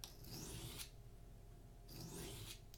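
A knife edge trailed across a sharpening stone: two separate raspy, gritty strokes with a pause between them, close and fairly quiet, no talk.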